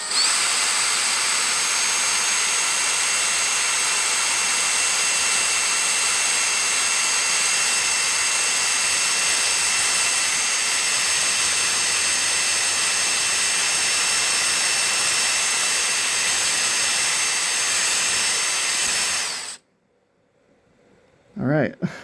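A power drill grinds steadily and loudly through steel for nearly twenty seconds while a hole is made in it, then cuts off abruptly into near silence.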